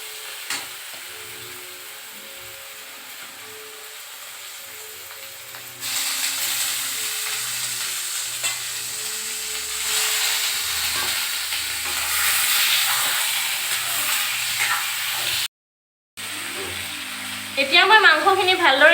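Duck meat hits a pan of ginger, garlic, chili, bay leaf and onion, setting off a loud, steady sizzling hiss after a quiet start, with the clatter of stirring, a brief drop-out, then renewed frying.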